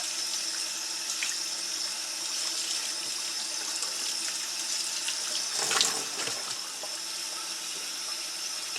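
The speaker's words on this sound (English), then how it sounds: "as I'm rinsing this out, most of that's coming off" Tap water runs steadily into a sink while a tanned hair-on hide from a furbearing game animal is rinsed, a continuous close splashing with a few brief louder sloshes partway through.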